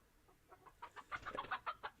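Goose honking near a stream room, a quick run of short nasal calls coming faster and louder after a faint start, close and clear with no talk.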